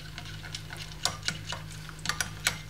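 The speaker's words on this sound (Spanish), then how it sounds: "Y le damos un par de vueltitas así hasta que no veamos que no tenemos grumos" Stirring oil into a zucchini pizza dough mixture in a bowl, soft irregular clicking taps of the utensil against the bowl over a low steady hum, quiet and close, with no talking.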